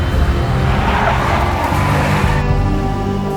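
A big black Mercedes skids loudly in the Max Payne video game, tires squealing over a steady engine roar that stays close and continuous throughout.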